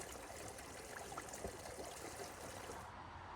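Fresh, clear water of the young River Thames flowing near its source, a steady close trickling and burbling stream with no talk.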